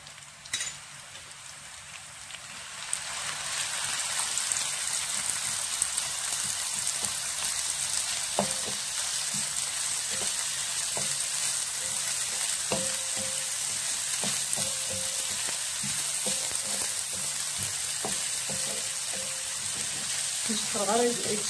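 Vegetables for a potato and vegetable gratin sizzle in a frying pan, with a steady loud hiss and scattered clicks from stirring.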